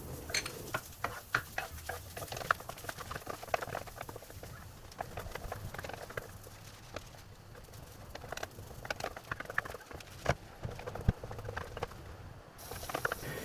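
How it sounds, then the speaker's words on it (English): Garlic is stir-fried in a hot pan, a low sizzle under frequent scraping and tapping of a spatula against the metal in an irregular rhythm. The sound is fairly quiet and close, with no voices. "Add in the garlic and stir fry till fragrance is out"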